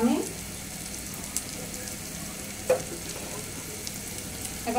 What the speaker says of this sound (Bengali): আমি এগুলোকে নাড়াচাড়া করে দেব। খেয়াল রাখতে হবে যাতে লেগে না যায়।